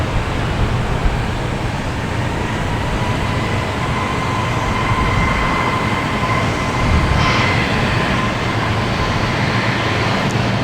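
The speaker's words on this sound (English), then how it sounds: "Delta taking off on 15" A Delta airliner takes off from runway 15 at Boston Logan Airport, a continuous loud broadband engine roar that holds steady and swells slightly near the end.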